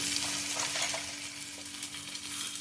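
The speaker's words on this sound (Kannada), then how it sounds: "ಒಂದು ಈರುಳ್ಳಿ ಚಿಕ್ಕ ಸೈಜು ಫ್ರೈ ಮಾಡ್ತೀನಿ" A small onion fries and sizzles steadily in a pan, with light stirring scrapes and clicks breaking through the continuous hiss, close and alone.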